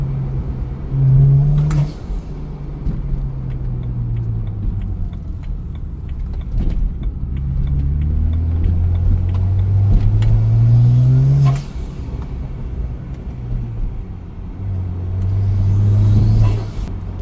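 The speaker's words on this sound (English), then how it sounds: "I just love that turbo noise." A turbocharged BMW 335 N54 engine revs and rumbles nearby, rising and falling with a whooshing turbo whine as it accelerates, heard from inside or close to the car.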